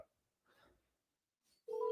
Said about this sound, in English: All right, let's start making some dials.